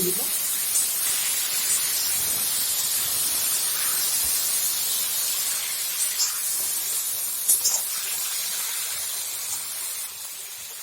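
Cauliflower stalks sizzle in a pan as spices are added, a constant close hiss with small crackles that runs unbroken for the whole stretch.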